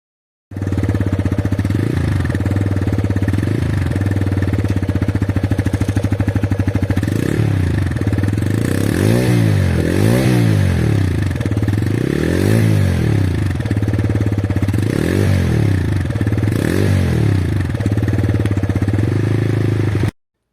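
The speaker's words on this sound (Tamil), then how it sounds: "ஃபைனலாக இந்த வண்டியோட சைலன்சர் சவுண்ட் எப்படி இருக்குது அப்படின்ட்டு கேளுங்க வாங்க" A TVS Raider 125 motorcycle exhaust rumbles loudly up close, idling with a deep throb and then revving in several rising and falling bursts before settling.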